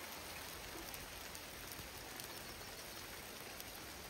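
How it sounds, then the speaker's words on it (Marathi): Steady rain pours down outdoors at a riverside crab-cooking party, a dense, even hiss of drops striking surfaces that holds constant and close throughout with no voices. "बघा पाऊस पडायला लागलाय"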